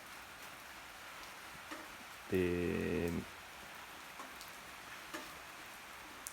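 Winter rain falling over farmland and crops, a faint, steady patter in the background, briefly interrupted by a short spoken word and a few soft ticks.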